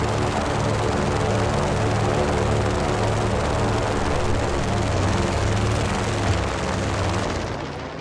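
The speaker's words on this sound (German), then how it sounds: "Ich will aber lieber den Heli haben." Helicopter in the video game Just Cause 3 flying with a loud, steady rotor and engine roar that fills the whole stretch, fading slightly at the end.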